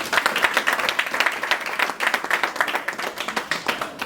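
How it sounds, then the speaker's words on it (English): An audience at a valedictory event claps for the team, a close, steady flurry of many hands with sharp individual claps standing out, continuing unbroken for several seconds without talk. "I request the audience to give a round of applause to the team."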